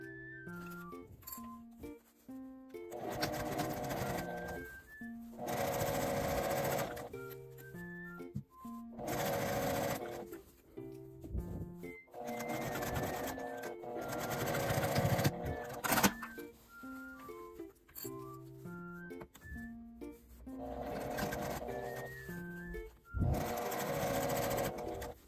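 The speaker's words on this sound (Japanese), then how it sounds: "端から5ミリくらいのところを縫います。" A sewing machine stitches around the top edge of a small cloth drawstring pouch, running in long whirring, rattling bursts with brief stops between them, steady and close but fairly quiet.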